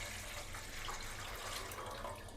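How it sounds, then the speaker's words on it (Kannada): Water poured into a cooking pot for lentil sambar, a continuous gushing splash heard close and steady for a couple of seconds with no voices. "ಬನ್ನಿ ಮೊದಲಿಗೆ ಒಂದು ಪಾತ್ರೆಯಲ್ಲಿ ನೀರು ಹಾಕೊಳ್ಳೋಣ."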